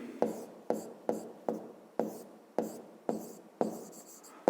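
A pen writes out a math exercise on paper in quick, regular strokes, about ten short scratching pulses in an even rhythm, close and quiet.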